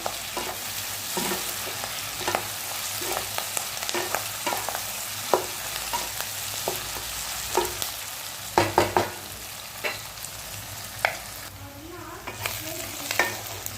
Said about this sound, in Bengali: কারিয়া পাতাটাও খুব সুন্দর ভাজা হয়ে গেছে।